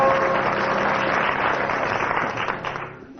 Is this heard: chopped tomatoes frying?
no